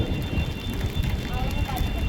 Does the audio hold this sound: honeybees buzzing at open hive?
no